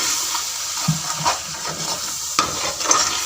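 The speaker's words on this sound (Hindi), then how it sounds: "इसको मिक्स करेंगे अच्छे तरीके से।" Rice gets stirred and mixed in a pan with soy sauce and chili sauce: close scraping and wet sloshing strokes over a low sizzle, with a few sharper spoon knocks against the pan.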